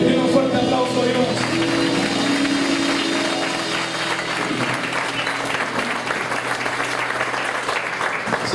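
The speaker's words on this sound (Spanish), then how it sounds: "Den un fuerte aplauso a Dios." A church congregation breaks into loud applause during a service, steady crowded clapping that continues throughout, with some voices and music-like tones heard early under it.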